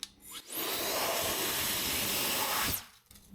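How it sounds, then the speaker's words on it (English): Built-in compressed air blower cleaning the gaps of a car interior: a steady, loud rushing hiss that starts abruptly, holds for about two seconds and cuts off, close to the listener with no talk. "You know all those times you wished you had some compressed air because you need to clean the little gaps inside the"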